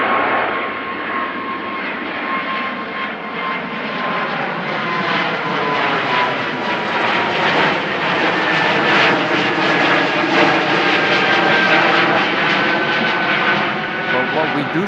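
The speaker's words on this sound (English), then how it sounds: "So this is Air Baltic, outbound Tallinn" An Air Baltic jet airliner departs outbound from Amsterdam Schiphol, its steady, loud engine roar with a high whine holding throughout, while a voice talks over it now and then.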